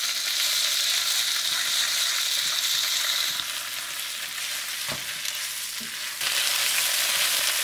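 Pieces of pork belly fry in a pan with a loud, continuous, close sizzle that holds steady and eases a little midway, with a light knock of stirring partway through.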